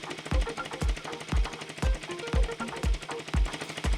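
A Yamaha Majesty 125 scooter engine runs nearby, giving a steady, rhythmic low thumping pulse with mechanical chatter between beats.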